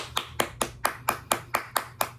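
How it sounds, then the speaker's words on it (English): A lone person claps for themselves, about nine crisp, evenly spaced hand claps in quick succession, close and clear with no talking. "let me give myself a round of applause"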